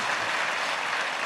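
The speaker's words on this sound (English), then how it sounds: "All claps from that side." Sustained applause from an audience at an evening Navaratri celebration gathering, a broad even wash of clapping with no pauses.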